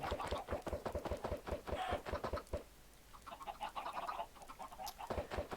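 Rapid, repeated clucking of chickens in a steady pulsing rhythm, close and continuous, with a brief lull midway before resuming, in the video game Minecraft.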